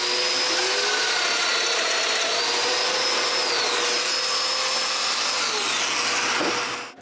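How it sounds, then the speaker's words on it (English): A domino joiner cuts mortises in wood for a live-edge fireplace top, giving a steady, loud motor whine with a rushing, vacuum-like hiss that runs continuously before cutting off at the end. "Now I can cut the mortises."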